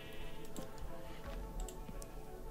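A sheep in the Minecraft video game bleats a few times at low volume, the short wavering calls sitting over light clicking and keyboard-like ticks in the background.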